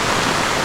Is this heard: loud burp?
no